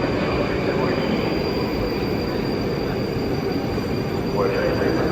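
A Moscow metro train running on the Big Circle Line, heard as a loud, steady rail rumble with rattling wagons throughout and a faint wheel squeal near the end.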